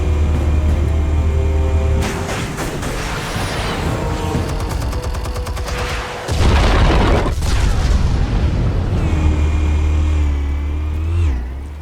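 Explosives detonating in the Batman Telltale Series video game, a heavy booming blast followed by rumbling debris and crackling, then a second loud burst and a fading mechanical whine.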